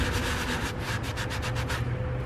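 A rotating brush with polishing soap scrubs exhaust tips, making a continuous close rubbing, swishing noise with a rapid pulsing texture that thins out near the end.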